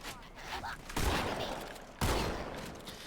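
Shotgun blasts in the game Halo 2 Anniversary: two loud, booming shots about a second apart with no talk over them.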